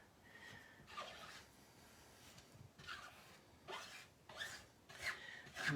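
A scraper drags chalk paste off a wooden serving board in about five quiet, rasping strokes spaced roughly a second apart, alone in a still room.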